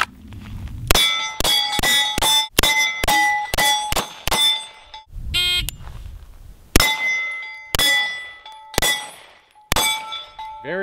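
Steel targets ring out in a competition shooting run, a fast series of sharp metallic clangs and pings in quick bursts with short gaps, each strike leaving a bright ringing tail.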